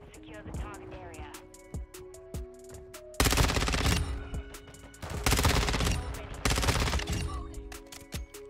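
Gunfire in Call of Duty Modern Warfare 2: sharp individual shots early on, then three loud, heavy bursts of rapid fire, close and dominant over game noise.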